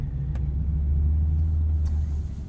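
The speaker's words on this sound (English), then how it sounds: "We get the active exhaust in this car, and it sounds pretty good." A 2020 Chevrolet Corvette Stingray coupe cruises in sport mode with its active exhaust open, giving a steady, deep low rumble from inside the cabin with no talking.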